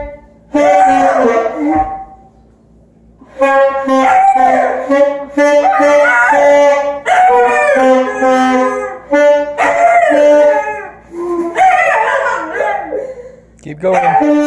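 Dog howling and barking close by in long, wavering, rising and falling howls, several in a row with short breaks, loud and up front.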